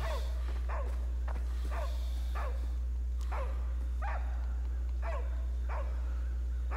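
A dog barks in a steady series of single sharp barks, about one every second, moderately close, over a constant low electrical hum.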